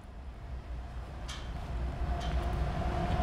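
A westbound CSX mixed freight train rolls past outdoors in Marion, Ohio, as a broad rumble that builds gradually, with a few faint metallic squeals and clanks over the low roar.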